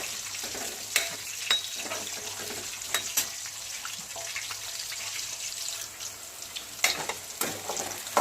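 Potatoes sizzle and fry in a pan for aloo matar pulao, a steady hiss broken by sharp clinks and scrapes of stirring, close and moderately loud with no voices.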